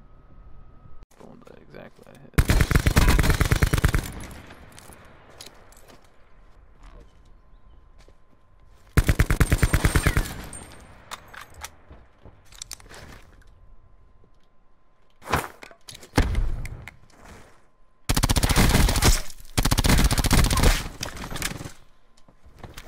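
Call of Duty Blackout gunfire comes in four loud, rapid bursts of several seconds each, separated by quieter gaps with faint movement noise, while a player talks between bursts.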